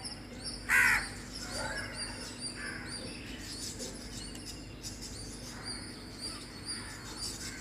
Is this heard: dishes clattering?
no